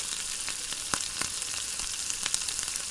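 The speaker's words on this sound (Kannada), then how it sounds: "ಇದನ್ನು ಆಯಿಲಲ್ಲಿ ಚೆನ್ನಾಗಿ ಫ್ರೈ ಮಾಡ್ಕೊಳ್ಬೇಕು" Spring onion and cabbage fry in oil with a dense, even hiss and sizzle, punctuated by a few quick crackles and light stirring ticks, close-up and without speech.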